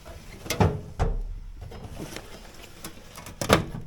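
An empty drawer in a tool chest slides open and shut with several clunky knocks, two sharp sliding bursts near the start and end, plus a low thump between them.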